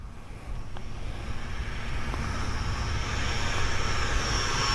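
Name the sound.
RC Banana Hobby MiG-17 90mm EDF jet flying past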